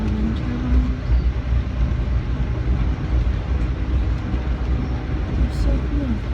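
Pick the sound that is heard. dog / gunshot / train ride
train ride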